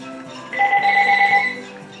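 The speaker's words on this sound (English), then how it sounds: "And that's the phone." In the Spongebob Battle for Bikini Bottom game, a telephone gives out a bright electronic ringtone that swells for about a second over a steady background of game music and sounds, then fades.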